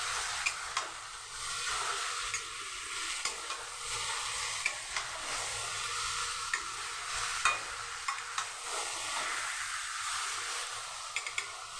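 Chicken pieces stir-fried in a pan for masala chicken, a soft continuous sizzle broken by repeated light spatula scrapes and clicks in an uneven rhythm, fairly quiet and close.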